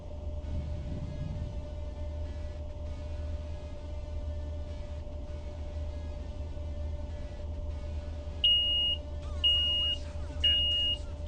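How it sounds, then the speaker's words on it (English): Repeated electronic alarm beeps in three short bursts near the end, ringing over a steady rumble of train engine and cab noise from a train simulator game. "I gotta go turn off my alarms."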